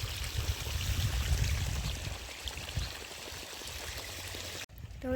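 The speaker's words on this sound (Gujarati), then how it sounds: "આ બધા નળ છે એમાંથી પાણી જાય છે ભટ્ટીમાં।" Water pouring and trickling steadily from taps into a kiln, a continuous rushing flow with a heavier low splash early on, ending abruptly near the close.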